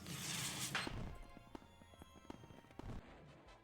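Firework glove in the Roblox game Slap Battles launching fireworks: a loud burst of crackling explosions up front, then scattered sharp pops and bangs trailing off over a few seconds.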